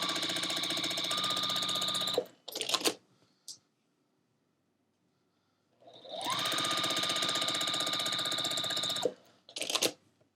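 A sewing machine stitches fabric squares for a quilt block in two long, fast, steady runs, each ending with brief clicks and short bursts, separated by a pause of near silence.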